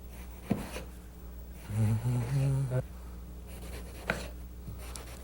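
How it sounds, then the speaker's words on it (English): A sharp knife slices through stacked eggplant into strips on a cutting board, giving a few soft, close thuds and scrapes under a voice. "let's cut these into 1/4 inch strips"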